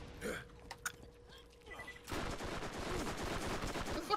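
Repeated gunfire from a shotgun in a video game wasteland battle, a few sharp shots early then a dense, loud continuous barrage of blasts and explosions through the second half.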